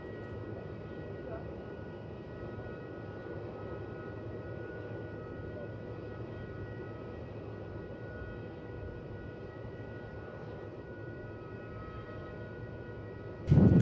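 Qantas airliner at Melbourne Airport, a steady distant jet engine roar that holds evenly throughout with little change, ending in a brief sharp bump.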